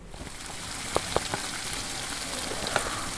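Betawi goreng arab meat simmers in tamarind water, giving a soft continuous sizzle and bubbling with a few sharp pops, close and steady, with no talking.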